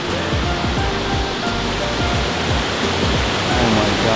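A waterfall roars in a steady, loud broadband rush that fills the whole clip, with a voice speaking faintly beneath it.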